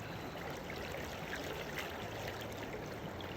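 Steady, continuous rushing water at the base of an Alaskan waterfall during a salmon run, a broad even wash of sound with no talk.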